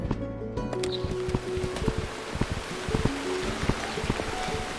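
Rain falls in the Burnhouse Lane horror game, a continuous patter mixed with scattered clicks and sustained low tones, fairly close and even throughout with no voices.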